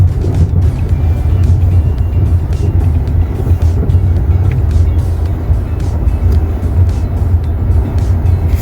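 Suzuki WagonR hatchback driving slowly along a narrow road, a steady low engine drone with road and tyre rumble from inside the cabin, continuous and even with no talking.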